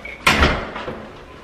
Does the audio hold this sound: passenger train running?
no